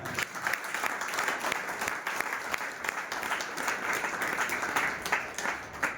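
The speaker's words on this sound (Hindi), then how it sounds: "एक बार उनके लिए जोरदार तालियां।" An audience at a gathering applauds, a dense, continuous clapping that holds evenly from start to finish with no voices above it.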